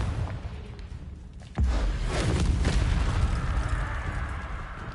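A Confringo fire spell in the Hogwarts Legacy video game bursts with a sudden loud boom partway through, followed by a sustained rumbling, crackling blast that slowly fades.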